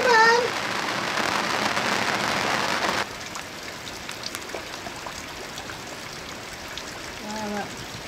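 Rain falls steadily on an Alaskan trawler boat, loud and dense for the first three seconds, then softer and patchier with scattered drips; brief voices come in at the start and near the end.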